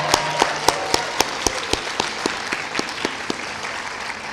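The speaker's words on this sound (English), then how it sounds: "How about another round of applause for the 2026 class of" Applause from a crowd at a veterinary medical technology graduate pinning ceremony, with a few sharp claps standing out near the front, steady and sustained throughout without any voices.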